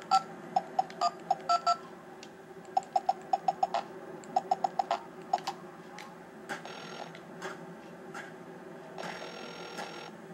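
Phone keypad dialing tones from the Wii game Silent Hill: Shattered Memories, several quick bursts of short electronic beeps in irregular groups, clear and close over a faint ambient hum, no talking.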